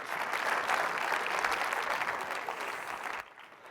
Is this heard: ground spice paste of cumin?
no